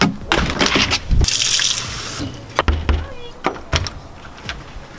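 Water poured into a car being rebuilt after a head gasket job, a splashing, gurgling fill with a louder burst partway through and intermittent sloshes after.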